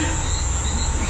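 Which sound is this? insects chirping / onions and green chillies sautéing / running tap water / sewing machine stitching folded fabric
insects chirping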